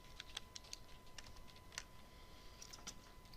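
Fairly faint computer keyboard typing: a few irregular key clicks and short bursts over about three seconds, heard alone against low background room noise.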